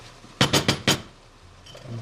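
Four quick scraping clinks of a utensil against a metal pot of water for Armenian-style herb soup, close and evenly spaced, followed by quiet.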